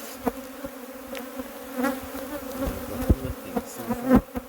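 Honey bees buzz loudly while beekeepers in veils and Kevlar sleeves open a bad-tempered colony, close insistent humming with wings rising and falling and soft knocks of hive handling.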